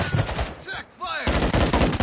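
Gunfire from the video game Call of Duty: Modern Warfare 2, dense bursts of shots filling the clip, dropping away briefly in the middle before resuming loudly.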